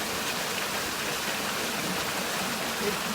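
Water spills down over stones at a field dam, a steady faint rushing wash that stays even and unbroken throughout, with no voices.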